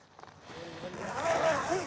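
A zipper is pulled along in one steady, close drag lasting under two seconds, rising slightly in pitch toward the end.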